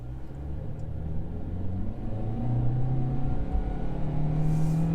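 Engine of a 2021 Kia Forte GT Line heard from inside the cabin, a steady droning rumble as the CVT holds high RPMs, slowly rising in pitch and loudness.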